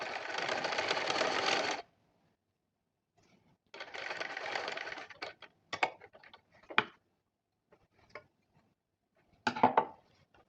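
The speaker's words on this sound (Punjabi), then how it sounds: "ਇਹ ਵੱਡੇ ਵਕੀਰ ਨਾਲ ਸਿਉਣ ਮਾਰ ਕੇ" Sewing machine running a long-stitch seam on a garment neckline: a steady motor whir for nearly two seconds, then a shorter burst, followed by scattered clicks and knocks from handling the fabric and machine.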